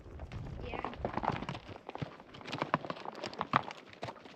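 Horse walking on a mountain cattle drive, with irregular hoof clops and rustling close by while people talk.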